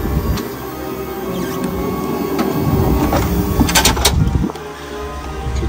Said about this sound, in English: And then you can push the stow button.